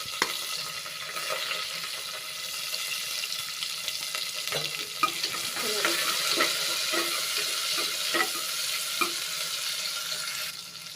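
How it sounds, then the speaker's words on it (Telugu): Onions going into hot oil with spices for a Telangana village-style mutton curry: a steady, dense sizzling hiss with occasional stirring clacks, and no one talking. "ఇప్పుడు ఆనియన్స్ ఉల్లిగడ్డలు వేసుకున్నాం"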